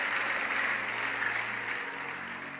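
Applause from a church congregation, a steady dense wash of clapping that holds at the same level for the whole stretch and thins slightly toward the end, with no voices on top.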